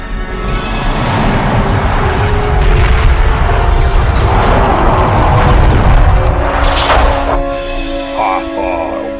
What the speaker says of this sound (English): Gunner, open fire. All batteries.